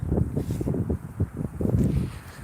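Gusty wind buffets the microphone on a city street in Dresden in April, a rough low rumble swelling and easing in uneven bursts over a couple of seconds.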